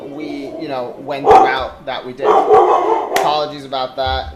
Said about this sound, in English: That is my dog being a good guard dog.